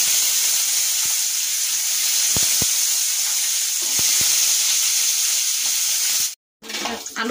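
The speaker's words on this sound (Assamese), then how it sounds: "আলু দুটাও ভাজা হৈ গ'ল" Potatoes frying in oil with bay leaves in a kerahi wok make a continuous close sizzle, broken by a few soft stirring clicks, before a sudden brief cut near the end.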